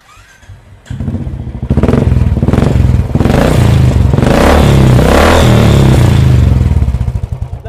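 A motorcycle fitted with a long-pipe Indori silencer starts up and revs hard, a loud, close, throaty pulsing exhaust that rises and holds at high revs for several seconds before easing off.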